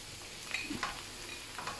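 Peppers, zucchini and eggplant fry in a pan while being stirred, giving a quiet, even sizzle with a few soft clicks and scrapes from the stirring.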